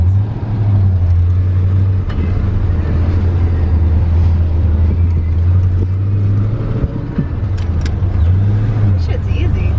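A manual stick-shift truck drives along with a steady low engine drone and a rise in revs near the end, while people talk inside the cab over it.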